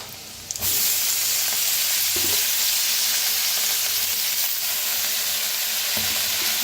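Fenugreek leaves hit a hot pan, bursting into a loud, bright sizzle that starts abruptly after a brief quieter moment and continues as a steady close hiss with faint stirring clicks.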